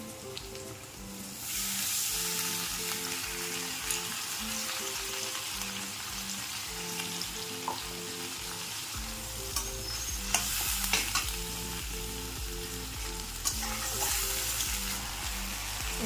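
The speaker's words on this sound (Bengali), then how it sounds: "এখানে মশলা ভাজা হচ্ছে" Spices sizzle and crackle in hot oil in a home kitchen pan, with stirring and scraping, a steady loud frying hiss running throughout with bursts of spattering.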